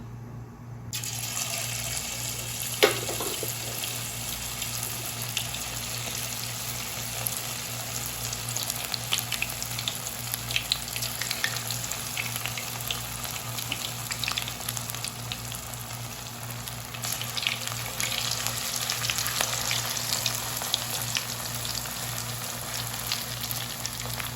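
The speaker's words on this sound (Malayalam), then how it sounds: "ഇനി നമുക്ക് എണ്ണ ചൂടാവുമ്പോൾ കാലിഫ്ലവർ ഒന്ന് ഇട്ട് കൊടുക്കാം." Marinated cauliflower frying in hot coconut oil in a kadai for Gobi Manchurian, giving a steady, dense sizzle and crackle that runs the whole length with a brief louder spit early on, no talking.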